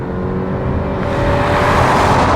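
A 2018 Range Rover Velar turbo diesel revs to about 2,000 RPM and launches hard, its engine roar building in pitch and loudness over a couple of seconds.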